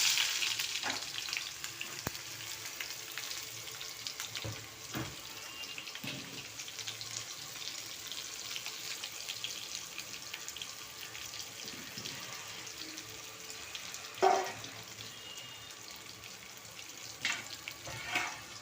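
Continuous soft sizzling of onions frying in oil for an eggplant bharit, with occasional clinks and stirring scrapes, fairly quiet and close.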